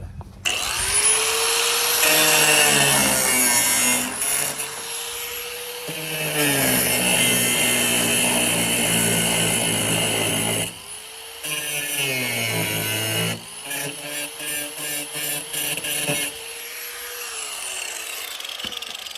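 A loud grinder whines in repeated bursts on the metal of a broken stud on a 1974 GMC Suburban, pitch dipping as it bites in and rising again between cuts, with short pauses.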